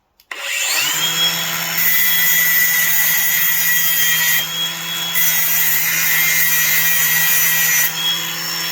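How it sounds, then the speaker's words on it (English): Power grinder working an aluminum rivet on a steel gas strut bracket, a loud steady high-pitched whine and abrasive hiss that spins up sharply and holds for several seconds, close and alone without speech. "I probably ought to grind that too"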